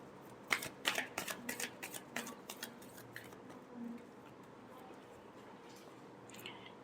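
Tarot cards are shuffled by hand in a quiet room, a quick run of crisp riffling flutters and soft slaps that fades into faint rustling.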